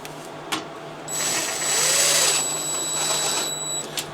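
A power drill drives screws into a Miele dryer during a blower wheel replacement, a steady whining motor run of about three seconds with high tonal whine, preceded and followed by short clicks and handling knocks.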